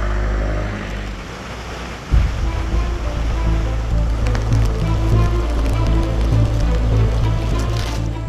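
Floodwater rushes loudly along roads turned into rivers in the Minoa Pediada municipality, a continuous churning roar of water. A sudden heavy thump comes early, with splashing throughout.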